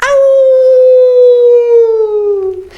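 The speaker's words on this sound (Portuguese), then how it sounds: "o Sai Pra Lá Vira-Lata gostava de uivar pra lua" A mixed-breed dog howling at a full moon: one long, loud, close, sustained howl that slowly sinks in pitch before cutting off, with no talking over it.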